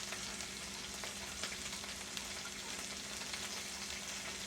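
Onions sizzle on a grill for a burger, a steady crackling hiss with scattered pops, close and continuous, with no one speaking.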